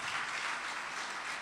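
A church congregation applauds, a steady, dense wash of many hands clapping at moderate distance with no voices over it.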